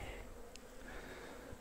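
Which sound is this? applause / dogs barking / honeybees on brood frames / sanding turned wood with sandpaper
honeybees on brood frames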